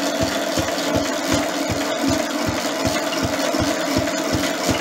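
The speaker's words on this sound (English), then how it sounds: "Listen how slow it idles." Lister D diesel engine idling very slowly, a loud, close, even thumping of single firing beats at a leisurely rhythm over a steady mechanical hum, with no voices.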